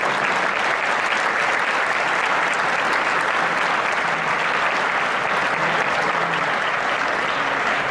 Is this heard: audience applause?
yes